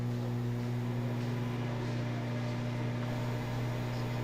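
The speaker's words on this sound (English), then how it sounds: "it's a low watt microwave, so we're going to have to put it for another 2 minutes" A low-wattage microwave oven runs while heating peanut butter fudge, giving a steady, unbroken electrical hum and drone at moderate level with no talking.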